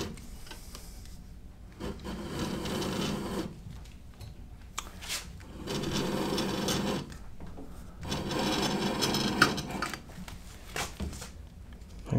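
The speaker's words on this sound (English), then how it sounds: "let's go ahead and put this in the splitter," Leather lace for an Indiana Jones style bullwhip repair drawn through a leather splitter, giving repeated scraping, rasping bursts of a few seconds each with short pauses between, close and fairly loud, without talk.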